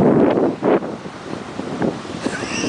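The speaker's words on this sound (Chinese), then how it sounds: "可是海浪的声音很大。" Loud sea waves surge and crash near the shore for under three seconds, with wind buffeting the microphone throughout.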